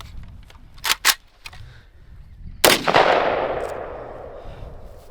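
An AK rifle chambered in 5.56 at an outdoor range: a few sharp close cracks followed by a louder shot whose report rings and decays over several seconds.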